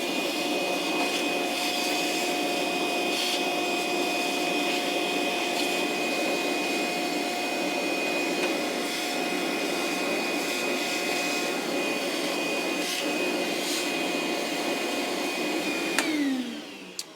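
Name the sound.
DeWalt DCV581H cordless wet dry vac vacuuming wood chips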